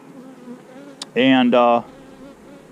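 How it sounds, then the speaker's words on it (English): Honey bees fly around an open hive, a soft buzz under a faint hum, with one brief, louder close buzzing pass in the middle; someone says a single word. "So we got all these bees out here flying around, right?"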